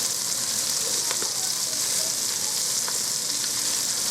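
Swedish meatballs fry in a pot with a constant bright sizzle and crackle, joined by a few faint clinks and stirring noises, heard close up with no talking.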